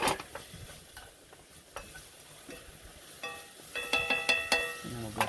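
Bacon sizzles and fries in a pan ahead of making bannock, a steady crackle with occasional stirring and utensil clinks, brief faint talk near the start.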